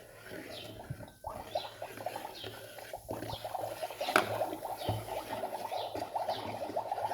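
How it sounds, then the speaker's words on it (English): Magic Mixie toy cauldron bubbling as a potion tablet dissolves, with soft, irregular fizzing and popping that continues steadily, punctuated by a few sharper clicks and taps close by. "I love the bubbly sound."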